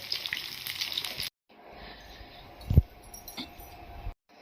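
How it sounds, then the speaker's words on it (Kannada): Spices tempering in hot oil for sambar crackle and sizzle steadily, then a quieter stretch with a clink of metal and scattered pops. "ಒಗ್ಗರಣೆ ಹಾಕಿದ್ರೆ ಆಯಿತು"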